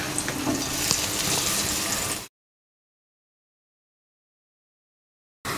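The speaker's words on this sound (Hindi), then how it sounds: "और इसको अच्छी तरह से फ्राई कर लेंगे।" Garlic frying in oil in a pan for chicken chow mein gives a dense, close sizzle for about two seconds, then cuts to silence before a brief return of the sizzle at the very end; no talking.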